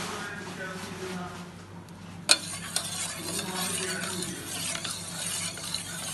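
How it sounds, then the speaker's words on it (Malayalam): Kunafa mixture with cheese being stirred nonstop in a pan at home gives soft, steady scraping and stirring with light sizzling, one sharp clink partway through, under a quiet background. "കൈ വിടാതെ ഇങ്ങനെ മിക്സ് ചെയ്ത് കൊടുക്കണം"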